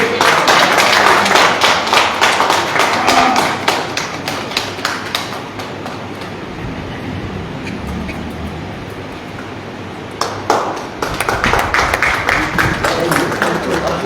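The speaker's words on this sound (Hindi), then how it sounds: "तालियां बजाइए जोर से" Loud applause from an audience at an honouring ceremony of a literary gathering, dense clapping that swells, eases through the middle, then surges again toward the end.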